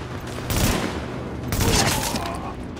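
Gunfire in the video game Tom Clancy's The Division, two loud bursts of shooting about a second apart over a constant background rumble, with a faint voice underneath.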